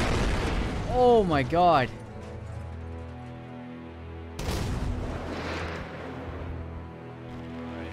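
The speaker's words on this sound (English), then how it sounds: "God, the soldiers just heard that explosion" A deep boom goes off in GTA 5 roleplay, a sudden burst with a long rumbling tail that lingers for several seconds, heard after a startled voice.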